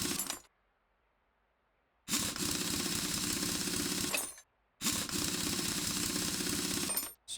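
Wheel bolts being removed with a power wrench in the Car Mechanic Simulator 2026 game: two long, loud rattling bursts separated by silence, then a short final burst.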